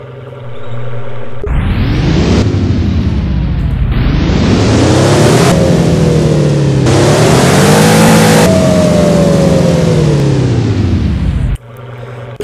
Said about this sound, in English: This time the startup and the idle are not the same.